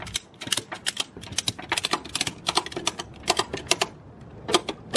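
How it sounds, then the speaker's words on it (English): A ratchet tie-down strap is cranked tight on a Yamaha YXZ UTV, giving rapid runs of sharp, close plastic-and-metal clicks in uneven bursts, with no talking. "then you just pull it tight, and then start ratcheting"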